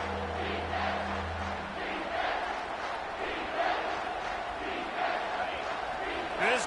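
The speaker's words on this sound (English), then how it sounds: "This crowd knows when to bring it." A college football stadium crowd roars and cheers in a steady loud wash of massed voices, with a broadcaster speaking over the noise.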